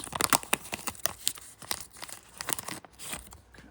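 A 2025 Panini Score football card pack being torn open by hand, with sharp crinkling foil and rapid tearing bursts up close, alone without talk.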